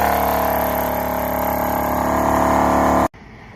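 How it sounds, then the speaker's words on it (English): An All-Top 12-volt air compressor clamped straight to a battery runs loud and steady as it inflates a van tyre, a constant mechanical drone that cuts off abruptly near the end. "So here's the all-top compressor."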